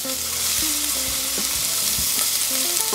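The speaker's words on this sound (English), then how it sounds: "Once that starts sizzling, the rest is going to go in. So first I'm going to put the onion in, and also the ginger." Onion and ginger dropped into hot oil for pineapple ketchup, a loud, steady, close sizzle with faint stirring knocks throughout.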